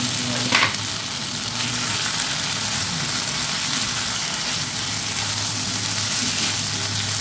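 Oil hisses and sizzles steadily in a hot pan for begun aalu chorchori, a brinjal and potato dish cooked in fish oil. The sizzle is loud, close and continuous, with no talking.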